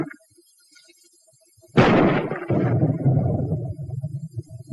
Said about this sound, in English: At ranges up to 200 yards, armor-piercing ammunition can smash through this kind of wall any time, any day.